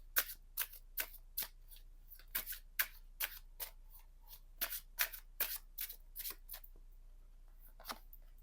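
Tarot cards are shuffled by hand, a series of short crisp riffling snaps coming in irregular bursts over a quiet background, close and fairly soft.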